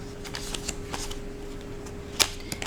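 Tarot cards are shuffled and drawn from a deck, giving quiet, close riffling flicks and scattered crisp snaps, with one sharper slap near the end.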